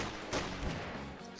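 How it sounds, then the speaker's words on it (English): Gunfire in Garry's Mod Trouble in Terrorist Town, a short burst of in-game shots over a dense, noisy game mix lasting just over a second. "I'm shooting you, Jeff."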